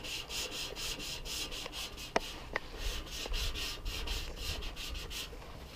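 Repeated rubbing strokes of 400-grit sandpaper on a motorcycle gas tank, a steady rhythmic scratchy swish, close and fairly loud, with a couple of sharp clicks partway through.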